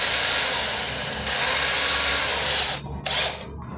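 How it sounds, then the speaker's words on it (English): A cordless drill runs continuously with a steady, loud mechanical whine, close by, with a couple of brief drops in pitch near the end as the trigger eases. "Our brand name cordless drill machine."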